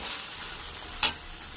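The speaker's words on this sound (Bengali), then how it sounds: "দইটা দিয়েও নাড়াচাড়ি করে নেব" Yogurt is stirred into a catla fish curry in a frying pan: a soft, steady sizzle carries on, with one brief scrape of the spoon against the pan near the end.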